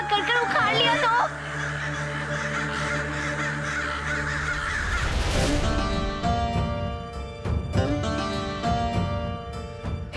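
Crows caw harshly and repeatedly, loud and close, in a dramatic scene of crows attacking a royal court, with a swelling music-like rush partway through and people talking around it.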